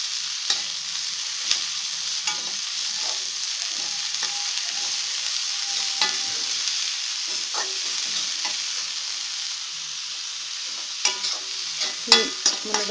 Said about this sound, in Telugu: ఈ మునగాకుని బాగా కలుపుకోవాలి.